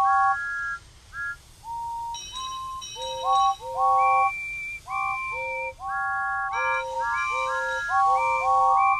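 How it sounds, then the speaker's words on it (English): Animated Thomas & Friends engines whistle Happy Birthday, a clear tonal melody of short, steady whistle notes, some of them layered into chords, loud and close with a low hum beneath. "the scene where the engines try whistling Happy Birthday to Dowager Hats felt a bit awkward."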